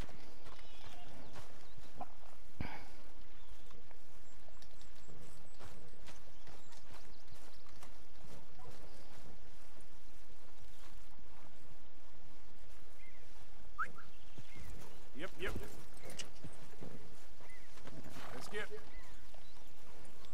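Horse hooves clip-clopping in Red Dead Redemption 2, steady hoofbeats running under continuous talk and game sounds.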